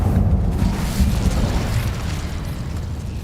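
A fiery spell burst in Hogwarts Legacy, a loud whooshing, rumbling blast of flame that swells at once and then slowly fades, with no voices.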